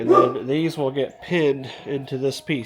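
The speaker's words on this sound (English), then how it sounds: "pardon the dog barking there" A dog barks and yips a few times in short bursts at a home workshop, partly under someone talking close to the microphone.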